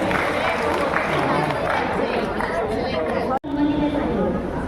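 Audience applause at a school quiz competition after a correct answer, a dense steady wash of clapping mixed with crowd chatter that carries on almost unbroken, with one brief drop near the end.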